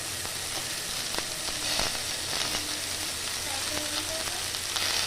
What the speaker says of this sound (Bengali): তো বাঁধাকপি, কাঁচা লঙ্কা এইগুলোকে আমি হালকা করে ভেজে নেব।